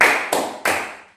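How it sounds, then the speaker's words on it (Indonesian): Three sharp hand claps from children, evenly spaced about a third of a second apart, close and fairly loud, each ringing out briefly, keeping time with a children's song at a church Sunday school. "Kalau kau suka hati tepuk tangan."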